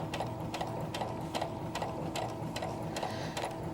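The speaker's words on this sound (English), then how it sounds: "we're sewing the side seams for the elastic waistband that we're going to create for the skirt" A sewing machine stitches the side seams of a simple skirt meant for an elastic waistband. Its steady, rapid mechanical whirr runs close and continuous, with regular ticking beats from the needle and no talking.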